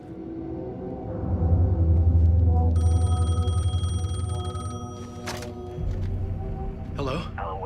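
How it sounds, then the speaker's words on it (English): Telephone ringing in the video game Alan Wake 2, a repeated electronic bell trill clearly audible over a low droning rumble and ambient game sound, lasting several seconds before fading. "The phone was ringing."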